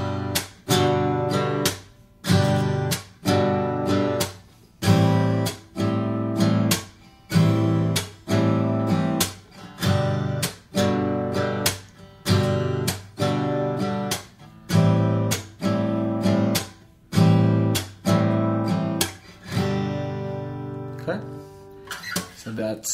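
Guitar chords for a song strummed slowly with muted taps between strokes, giving a steady, even rhythm of about two dozen full, close strums across the passage with short percussive gaps and no talking.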